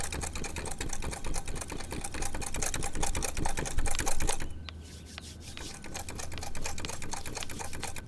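A sewing machine stitches a blouse with fast, rattling needle clatter, close and steady, stopping for about a second midway before starting up again. No voices are heard.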